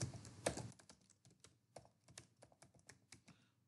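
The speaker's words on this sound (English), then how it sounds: "you have to type ServiceNow" Quiet typing on a computer keyboard, a quick burst of clicks followed by steady, irregular keystrokes, close and faint with no talking.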